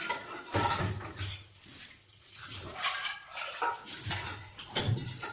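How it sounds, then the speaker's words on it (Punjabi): Dishes being washed by hand: scattered clinks of pots and utensils with some splashing of water, fairly quiet and steady, no talking. "ਦੋ ਚਾਰ ਕੇ ਭਾਂਡੇ ਸੀਗੇ ਜੀ ਬਸ ਮਾਂਜਣ ਵਾਲੇ"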